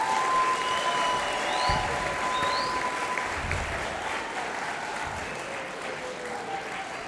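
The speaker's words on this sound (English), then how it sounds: "Let's give them one more round of applause." A school band concert audience in Brooklyn claps in sustained, dense applause that swells and then slowly eases off, filling the hall without talk.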